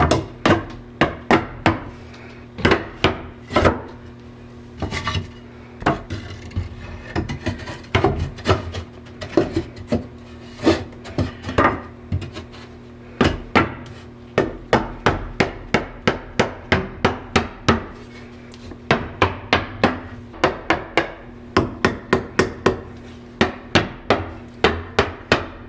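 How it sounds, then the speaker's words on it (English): Rubber mallet tapping snug-fitting wooden closet shelves into place, a long series of sharp knocks, sometimes single and sometimes in quick bursts, close and loud with brief pauses between groups. "I'm using this rubber mallet just to tap them down and tap them into the correct space since it's so"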